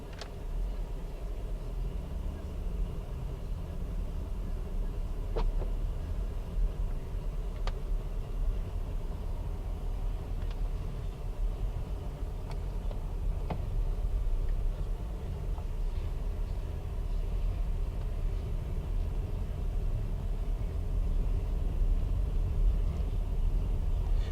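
A 2015 Mercedes-Benz GLK350 4MATIC rolling along with a steady low engine and road rumble heard from inside the cabin, continuous and even, with a few faint clicks and no talking.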